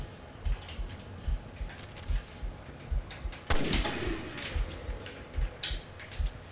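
A sniper rifle fires once in Resident Evil Revelations 2, a sharp loud crack with a brief ringing decay. Quieter clicks and thumps from the game come at a steady pace around it, and no one speaks.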